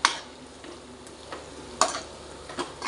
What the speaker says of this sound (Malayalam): ചിക്കൻ ഇങ്ങനെ എടുത്തെടുത്തിട്ട് അതിനെ മിക്സ് ചെയ്ത് പകുതി ഇട്ടിട്ട് അതിനെ ഒന്ന് മിക്സ് ചെയ്ത് കൊടുക്കണം